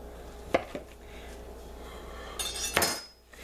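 A knife is fished out from among cutlery in a kitchen drawer, giving a few sharp metallic clinks and a brief rattle against quiet room background.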